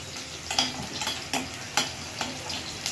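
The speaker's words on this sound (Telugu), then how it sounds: "కర్రీ లీవ్స్కొని వేసుకున్నామండి." Curry leaves sizzling in hot oil in a pan while making lemon rice, a steady close crackle with repeated sharp pops and stirring scrapes, no talk.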